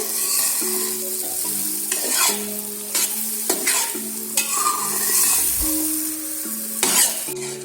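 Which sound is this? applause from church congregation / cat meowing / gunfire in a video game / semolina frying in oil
semolina frying in oil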